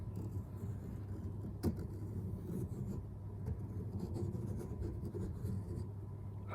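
A pen tracing around a circle on paper, a faint continuous scratchy writing sound over a steady low hum, with one brief sharp tap partway through.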